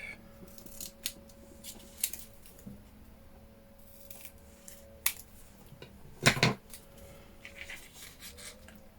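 Scissors snip through paper while a Halloween junk journal is assembled: several light, scattered cuts, then one louder, crunchier snip near the end, close by and with no talking.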